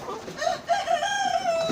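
Brown laying hens about 20 weeks old, kept in an open-sided coop, give a drawn-out, wavering squawk close by. Softer clucks and rustling sit underneath.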